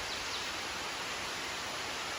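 Steady broadband rush of falling water along the Appalachian Trail, with waterfalls and swollen creeks after heavy rain, a constant near hiss filling the whole moment with no voices.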